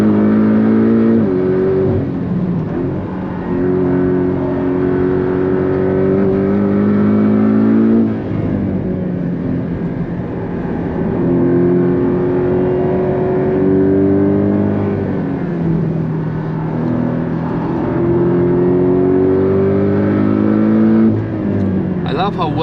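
Porsche Cayman 718 GTS engine on the Nürburgring, loud and close from the cabin, revs climbing through several gears with brief dips at each shift, cycling up and down repeatedly.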